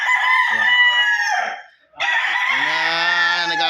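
A rooster on a livestock farm crows twice in close succession, loud and near, each call a drawn-out cock-a-doodle-doo.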